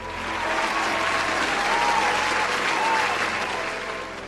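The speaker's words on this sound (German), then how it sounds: "aber es haben alle geklatscht" A vast crowd of beings claps on a city platform, producing a thick, continuous roar of applause that swells and fades gently, with faint tonal sounds drifting over it.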